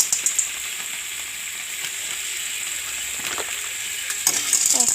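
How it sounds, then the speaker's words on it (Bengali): Pasta is stirred in a frying pan with fried spices, a soft continuous sizzle under scattered scraping and clicking strokes that grow busier and louder toward the end. "পাস্তা দিয়ে নাড়াচাড়া করে নিই"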